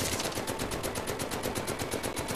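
Rapid automatic gunfire in a World War II video game, a dense steady burst of shots firing continuously at close range with no talking.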